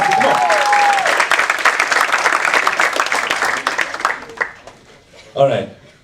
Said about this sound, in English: huge round of applause, everybody.